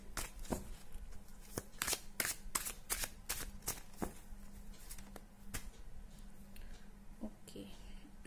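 Tarot cards shuffled by hand in a series of quick, sharp riffling snaps spread across the stretch, close and fairly loud, with soft background hum.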